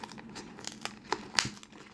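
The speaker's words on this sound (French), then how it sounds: "je vais ouvrir le deuxième deck tout de suite" A Warhammer Age of Sigmar Champions booster pack is torn open, with close crinkling foil wrapper and quick tearing rips over two seconds.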